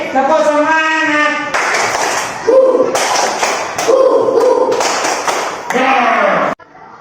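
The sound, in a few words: class doing rhythmic 'tepuk semangat' clapping chant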